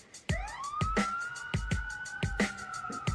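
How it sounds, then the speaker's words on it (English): A police siren wailing in a rising, sustained tone, punctuated by sharp regular percussive thumps of a beat throughout, fairly loud and with no talk. "Cue the sirens"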